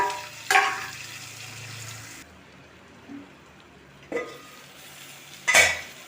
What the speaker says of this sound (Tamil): அதனால் தக்காளியை சேர்த்துக்கிறோம்.